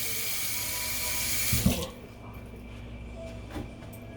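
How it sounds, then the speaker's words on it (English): Hands are washed under a running kitchen tap, with a steady rush of water that cuts off partway through, followed by a few faint clatters near a sink. "Wash my hand again."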